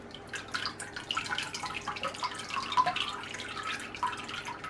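Elderflower cordial dripping steadily through a strainer into a container, a soft irregular patter of close liquid drops with faint background noise and no talking.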